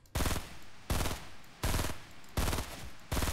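Rapid automatic gunfire from the video game Fortnite comes in five evenly spaced loud bursts, each a quick rattling volley of shots separated by short silences.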